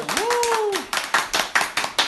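A brief voice opens, then a small group on a talk show claps in several quick, crisp bursts, close and distinct.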